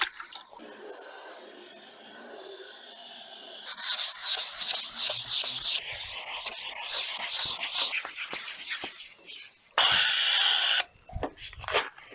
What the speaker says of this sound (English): so it's another round of sanding.